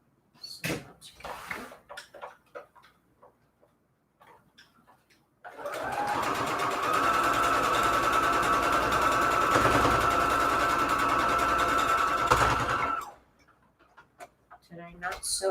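A sewing machine stitching fabric scraps for patchwork runs in one continuous whirring burst of about seven seconds, close and steady, with faint handling noises and a brief voice before and after.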